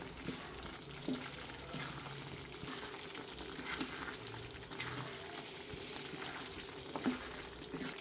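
Wheat flour roasts in ghee in a pan for date payasam, a soft, even sizzle with occasional faint scrapes of the spoon, quiet and close, without speech.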